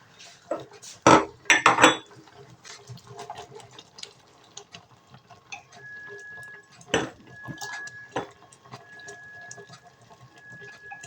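Small 200 ml glass jars for hot pepper jam clink and knock as they are handled, a few sharp close clatters early on, then scattered lighter ticks and taps with a faint background hum.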